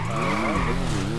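A car in the GTA video game skids with a loud, continuous tire squeal lasting about a second, sounding close and on its own.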